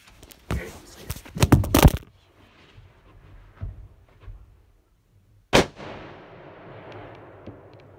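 Gunshots ring out during a hog hunt in Alabama: a quick cluster of loud cracks, then a quieter pop, and after a pause one sharp, powerful shot with a lingering tail, outdoors and near.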